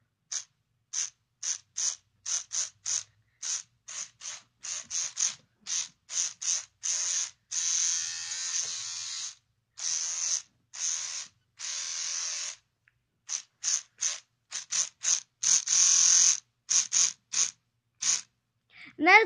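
An electric toothbrush buzzes in short rhythmic bursts, switched on and off to play a tune, with a few longer sustained hums between the quick pulses; it is close and fairly loud, and no one talks.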